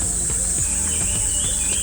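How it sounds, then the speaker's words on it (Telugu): Forest soundscape in Maredumilli: a steady high insect or cricket drone with scattered chirping bird calls layered over it, continuous and fairly close, with no talk. "అన్ని పక్షి శబ్దాలు అయితే మనకి వినిపిస్తున్నాయి అన్నమాట"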